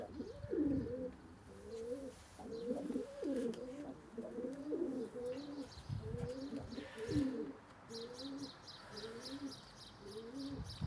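Tumbler pigeons and their chicks in a loft give close, repeated cooing in a steady rhythm. Faint chirps join in toward the end.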